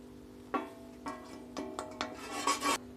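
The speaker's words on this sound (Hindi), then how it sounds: "इस तरह आप इसको अब चलाते रहें, मिक्स करते रहें।" Roasted semolina being stirred into sugar syrup for suji halwa, a spoon scraping and rasping against the pan in short irregular strokes that grow busier toward the end, over a faint steady hum.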